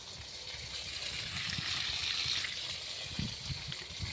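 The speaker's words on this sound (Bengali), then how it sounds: "ইনি হচ্ছে টুলু পাম্প চালিয়ে জল দিচ্ছেন" Water gushes steadily from a Tullu pump watering a farm field, a continuous hissing rush close by, with occasional low thumps and splashes underneath.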